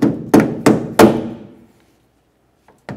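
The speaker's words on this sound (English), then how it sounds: "I'll just slide it over the end, and then I'll help it along with my rubber mallet." A rubber mallet taps a tailgate hinge bushing into place on a 1996-2002 Dodge Ram 1500, four dull, resonant thuds in quick succession that ring out and then fall silent, with a faint knock at the end.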